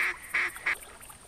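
Ducks in theHunter hunting game give three short nasal quacks at an even pace, moderately close and fairly clear, followed by a fainter fourth call.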